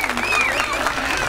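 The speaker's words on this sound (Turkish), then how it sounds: "Alkış lütfen." A short burst of audience clapping at a children's theatre show, heard under loud overlapping voices and cheers from the room.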